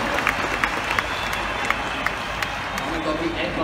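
Applause from a crowd at an outdoor marriage equality rally in Sydney, a steady wash of distant clapping with faint sharp claps standing out, heard beneath nearby talking.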